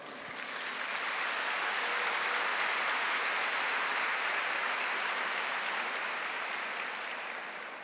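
A congregation applauding at a Catholic prayer gathering, a dense steady wash of clapping that swells in, holds loud for several seconds and eases slightly at the end, with no voices on top.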